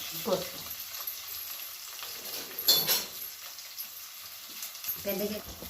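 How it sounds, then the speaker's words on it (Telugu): Chopped onions and green chillies sizzle in hot oil for a tripe curry, with a steady crackling fry broken by a few louder bursts as the pan is stirred. "ఆయిల్లో ఉల్లిగడ్డలు వేసుకుంటుంది పచ్చిమిరపకాయలు ఉల్లిగడ్డలు"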